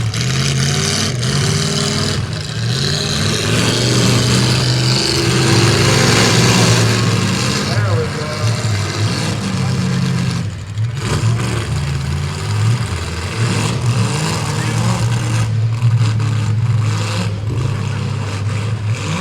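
Race car engines rev and roar at a Shenandoah County Fair event, loud and continuous with surging throttle, while people talk over the noise.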